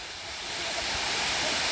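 Water rushes over the overflowing Nandgavhan dam at Digras during the rainy season, a broad, steady roar that swells louder and stays constant, heard alone without talk.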